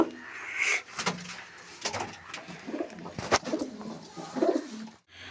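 Pigeons kept as breeding pairs at a home loft coo in repeated soft, throaty phrases, joined by occasional sharp knocks and clatter nearby, fairly close and with no talking.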